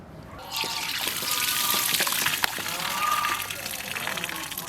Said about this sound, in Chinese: 把切好的鸡脯肉再洗一下，控干水分